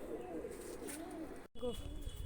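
A pigeon coos softly in a low, rolling rhythm through most of the moment, set against outdoor background noise, with a brief break partway.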